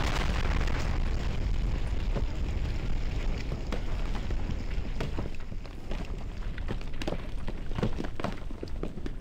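An explosion in the Minecraft video game, a loud continuous roaring blast with rumbling debris and scattered crackles and pops that fill the whole stretch without letting up.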